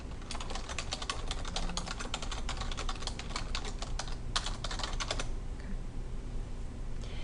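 Someone types on a computer keyboard in quick bursts of clicking keystrokes, close and clear, then stops near the end, leaving quiet room noise.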